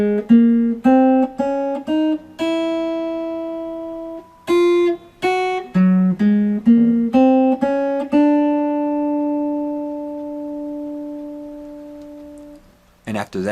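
A plucked guitar melody of single notes from a song, some ringing out long, played clearly and alone, with a brief burst of sound at the very end.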